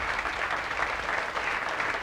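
A live concert audience in Amsterdam claps along steadily, a dense crowd of hands heard loud and continuous for a couple of seconds.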